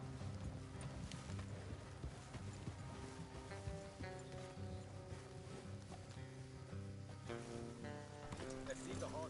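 Horses clip-clop steadily along a road in the video game Red Dead Redemption 2, the hoofbeats blended under a continuous music score with voices talking.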